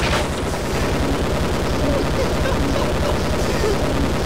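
Rapid gunfire in the video game Sven Co-op, a dense continuous burst of shots that stays loud and unbroken throughout, close up.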